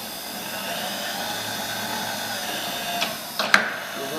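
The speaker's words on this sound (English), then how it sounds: "This machine is also equipped down here with a servo variable speed power table feed." The servo variable-speed power table feed on a Bridgeport 2J vertical milling machine runs with a quiet, steady electric whine and hum. A few sharp clicks come near the end.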